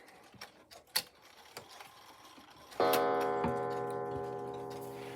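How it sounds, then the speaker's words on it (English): A D&A wall clock ticks softly in a room with a few faint clicks, then a bright chime or gong rings out and sustains, slowly decaying to the end. "D&A wall clock."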